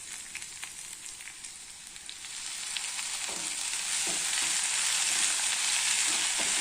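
Balloon vine greens are sautéed in a pan with onion and chili, giving a continuous frying hiss that swells louder partway through, with faint stirring clicks and no speech.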